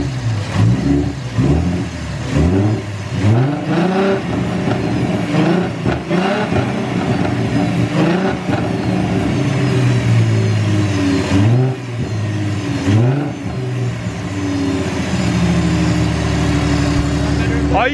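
A Mustang with a 3.7 V6 engine swapped to an M122 supercharger is revved repeatedly. Close, loud rising and falling blips of engine and exhaust are broken by short idle stretches, with voices talking over them now and then.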